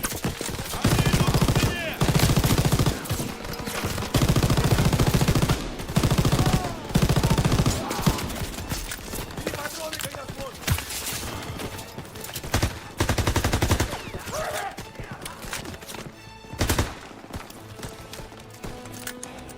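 Bursts of machine gun fire in a WWII video game, loud rapid volleys in the first half thinning to scattered shots with pauses and other game noise later.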